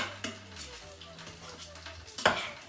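Potatoes are mashed and sautéed in a pot with a faint sizzle and soft scraping and stirring against the metal, with one brief louder clatter near the end.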